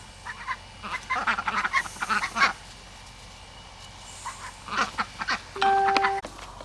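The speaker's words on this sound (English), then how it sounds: "Look how big them ducks done got." Several ducks quack in busy, overlapping bursts nearby, pausing briefly before another round of quacking, with a short tonal beep near the end.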